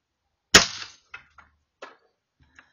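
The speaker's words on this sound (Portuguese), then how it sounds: "Aqui vai o primeiro disparo." A single sharp gunshot fired over open sights at a bottle cap, loud and close with a decaying tail, followed by a few faint clicks and small knocks.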